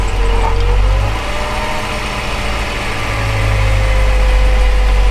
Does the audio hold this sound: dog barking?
no